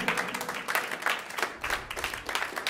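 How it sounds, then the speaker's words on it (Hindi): A live audience at a stage singing competition in Hinganghat gives a round of applause, with dense, pulsing clapping that swells and dips throughout, loud and close with no talk. "तो जोरदार ताली से स्वागत कीजिए लाजरी भूरे का।"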